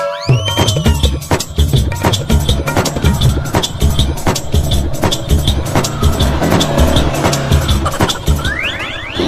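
A new car arrives with its tires skidding and scraping, amid a dense run of rattling, clattering bursts that carry on loudly from start to finish.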